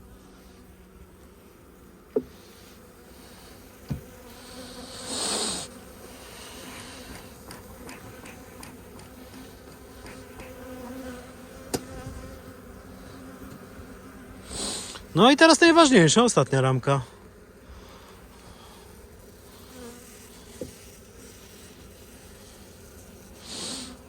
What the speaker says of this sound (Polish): te pszczoły są głodne. Dlatego są nerwowe.